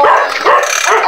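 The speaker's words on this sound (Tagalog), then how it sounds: "pasensya na lang kayo kasi may aso gatawon" A dog barks and yips repeatedly at close range in a loud, continuous burst of short calls.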